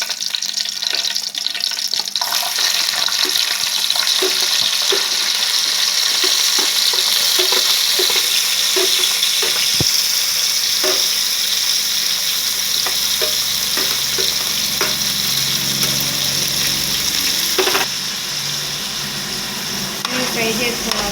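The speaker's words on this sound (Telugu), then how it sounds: "ఆయిల్ కొంచెం వేడి అవ్వగానే దాంట్లో కట్ చేసి పెట్టుకున్న ఉల్లిపాయ, పచ్చిమిర్చి, అలాగే ఈ మసాలాలు వేయాలి" Onion, green chillies, cinnamon and cloves fry in hot oil for chicken fried rice, a loud continuous sizzle with repeated scraping stirs throughout, easing slightly near the end.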